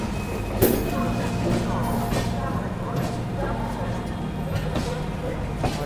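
The North East Express rumbles steadily along the track as it turns onto the Allahabad line, a continuous wheel-and-carriage drone with a few faint metallic squeals and knocks mixed in.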